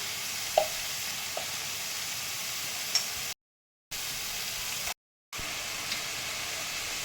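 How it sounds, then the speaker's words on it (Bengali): A spice paste with turmeric and Kashmiri red chili powder sautés in oil for a taro dish made without onion or garlic. A steady, close hiss of frying, with a few faint clicks, cuts out twice in brief silent gaps. "দেখো আমার মশলাটা ভারী সুন্দর কষানো হয়ে গেছে তেল ছাড়তে শুরু করে দিয়েছে"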